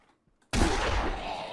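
A gunshot in the video game Zompiercer: after near silence, one sudden loud blast is followed by a dense, roaring decay that lingers for about a second. No talk is heard.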